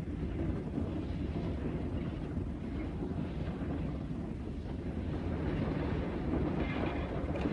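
A train on the Hejaz Railway rumbles steadily along the track, a dense continuous roar with faint rhythmic clatter and some wind buffeting, heard close and alone without voices.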